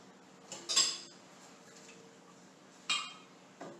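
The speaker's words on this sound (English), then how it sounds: "So for the top layer, I take off the thick top with a spoon" A spoon skims thick cream off the top of milk, making a few quiet, sparse metallic clinks against the container with soft pauses between them.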